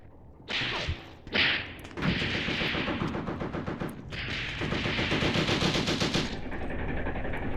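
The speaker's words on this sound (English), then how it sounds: "these with autocannons are pretty useful against infantry" A tank autocannon fires in a 1943 Tunisia campaign battle at Chouigui Pass, rapid repeated cracking shots in long bursts with brief pauses, loud and close, alone without talk.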